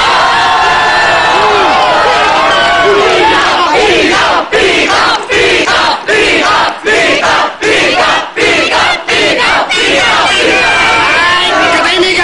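A crowd at a competition roars and shouts loudly and continuously, with cries rising over one another and short broken bursts toward the end.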